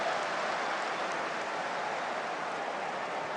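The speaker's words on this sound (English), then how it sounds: "Rain has started here in London." Steady simulated rainfall from a soccer video game match set in London, a dense even hiss of falling rain with no breaks or distinct drops standing out.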